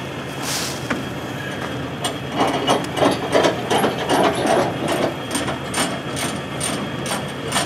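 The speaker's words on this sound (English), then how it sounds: "Nice grease gun." A grease gun pumps grease into a tractor in rhythmic mechanical strokes, each one a close ratcheting click and squeak, repeating steadily for several seconds.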